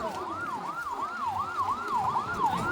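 Ambulance siren wailing in a rapid, repeating up-and-down sweep, fairly close and clear, with faint road traffic rumble beneath and no talking.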